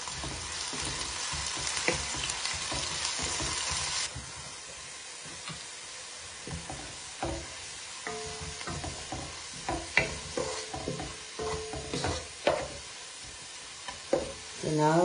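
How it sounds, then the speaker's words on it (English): Salted onions sizzle and crackle steadily in a hot pan, with a louder hiss at first that settles into softer frying and occasional stirring scrapes. "When you are frying the onion, if you add some salt"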